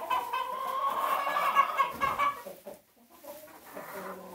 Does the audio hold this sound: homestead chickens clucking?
yes